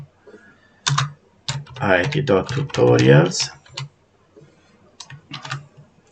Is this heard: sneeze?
no